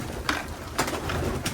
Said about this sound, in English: and some younger unsexed pigeons